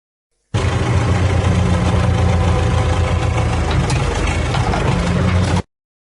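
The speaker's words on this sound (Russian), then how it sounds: "Трактор." Tractor engine running steadily in a children's vehicle cartoon, a loud, continuous low rumbling drone with a rough, knocking texture that holds at even volume for about five seconds before stopping.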